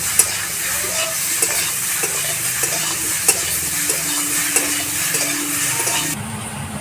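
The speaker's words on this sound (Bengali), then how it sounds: "এই সবজির সঙ্গে আমি বেশ কিছুক্ষণ এইভাবে কষিয়ে ভেজে নেব" Prawns stir-fry with vegetables in a hot pan, giving a loud, continuous sizzle with frequent stirring scrapes and light clinks, close up with no voices, before the sound cuts off abruptly.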